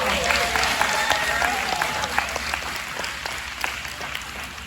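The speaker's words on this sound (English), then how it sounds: "Let's give her another round of applause." A dense round of audience applause following a Juneteenth speech, steady and fairly loud, with a few sharper claps standing out and voices faintly mixed in.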